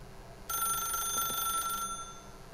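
A telephone rings in The Stanley Parable, a single sustained electronic trill lasting over a second with a clear bright tone, rising sharply out of a quiet background and cutting off abruptly.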